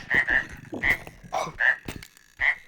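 Frog croaking in the video game R.E.P.O., a series of about six loud, close, raspy croaks in an uneven rhythm, with voices faintly underneath.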